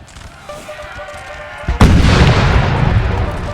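An infantry musket volley in Napoleon Total War cracks out as a sudden loud boom, then rolls on as a dense, rumbling burst of gunfire that stays steady to the end.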